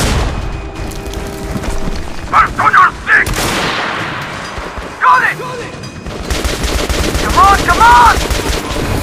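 Heavy gunfire in the video game Metro Last Light, dense bursts of automatic shots and booming blasts. Someone shouts briefly over the din.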